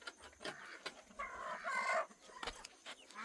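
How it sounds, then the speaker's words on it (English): Chickens in a barnyard pen settling in at dusk give short clucking calls and soft squawks, with a brief louder burst in the middle of otherwise quiet, close-by sounds. "Chickens is all getting ready to go to bed."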